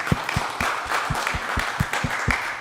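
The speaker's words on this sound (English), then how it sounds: "let's give another round of applause for Triple Threat" A crowd at a radio station launch event applauds steadily, with sharp rhythmic claps standing out near and loud throughout.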